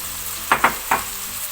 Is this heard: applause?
no